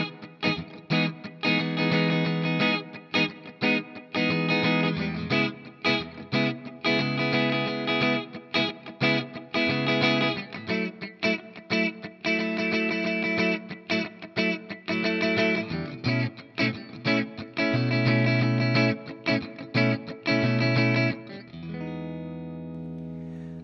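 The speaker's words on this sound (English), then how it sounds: "Then from there we get into the main chord progression, and that sounds like this." Electric guitar playing the main chord progression of a song, with an effects-laden tone of rhythmic strummed chords that carries on steadily for about twenty seconds and then rings out, heard without talk.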